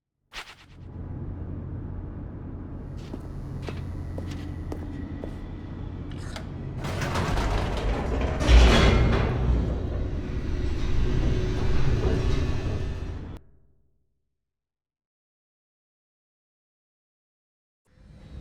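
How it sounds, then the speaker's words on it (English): An elevator in The Stanley Parable plunges downward: a deep rumbling, rattling roar builds and grows louder, then cuts off abruptly into silence. "The elevator raced downward, plummeting towards an unknown fate."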